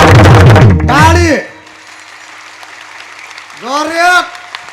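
Crowd clapping during a Marathi kirtan, a dense wash of hand claps that rises between bursts of loud singing, holds steady, then fades back under the voices.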